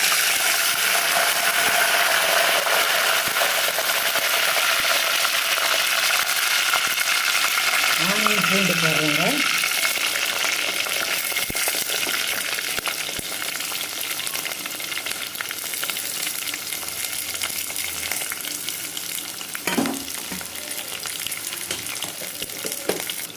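Curry leaves crackle in hot sesame oil already holding seasoning for a dry fish curry, making a continuous loud sizzle with sporadic pops and a few utensil clinks, close up, with a brief voice partway through.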